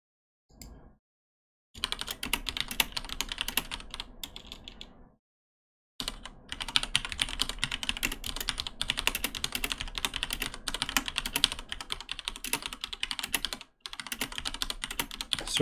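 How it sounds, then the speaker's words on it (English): Rapid clattering keystrokes on a computer keyboard, close and continuous in dense bursts, broken by a few short pauses. "Sorry for the typing"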